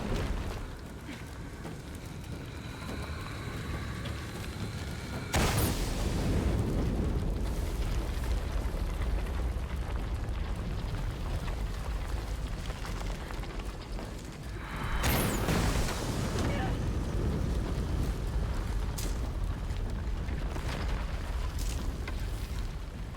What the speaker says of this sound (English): Explosion would raise the platform.